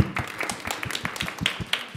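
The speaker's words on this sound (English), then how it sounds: "Give the first-timers a round of applause." A small group at an annual congregational meeting claps for first-time attendees, a quiet, sparse patter of individual hand claps heard fairly close, brief and uneven.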